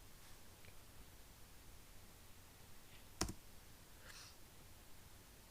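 A computer mouse click on a desktop PC while using an office database program, a single sharp click standing out alone against quiet background hiss.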